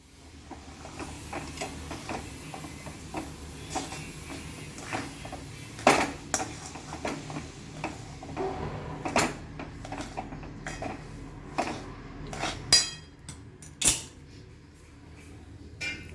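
Sesame seeds and jaggery being stirred together in a pan for winter ladoos, a spoon scraping and clinking against the metal in an irregular rhythm with sharper knocks at intervals, close and steady.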